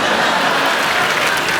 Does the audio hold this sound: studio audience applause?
yes